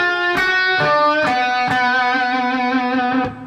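An electric guitar plays a blues rock lick in B, with distinct plucked notes struck in a steady rhythm and ringing with a bright, sustained tone, close and alone.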